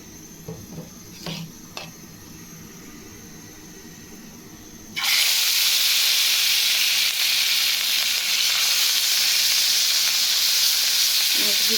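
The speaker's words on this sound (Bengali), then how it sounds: "আর একটু তেল দিয়ে মাছ ভাজি করে নিই" Fish hits hot oil for frying, a loud, dense sizzle erupting suddenly after a few quiet seconds of faint kitchen clatter and holding steady to the end.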